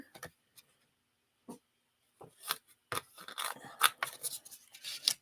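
Scissors trimming cardstock for an angled double gatefold card: a few isolated snips at first, then a quick run of close, crisp cuts and paper rustles toward the end.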